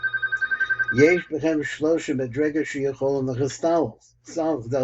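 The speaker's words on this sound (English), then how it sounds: "we got a little interruption over the fax line started ringing" A fax line rings with a rapid pulsing trill for about a second, then people talk over it as faint ringing tones linger in the background.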